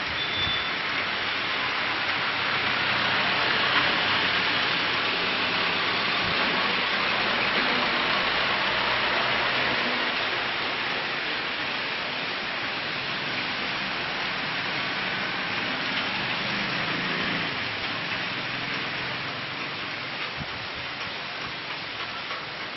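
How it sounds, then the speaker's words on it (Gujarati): Gentle rain falls steadily in Amreli, a soft, even hiss that continues throughout with no talking. "આજે અમરેલી પંથકમાં વરસાદ વરસી રહ્યો છે."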